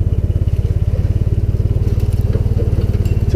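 A Taylor Dunn B6-10 burden carrier with a 12-horsepower engine driving on a Yamaha transaxle, its close engine chugging in a fast, steady rhythm throughout, loud and unbroken with light rattling on top.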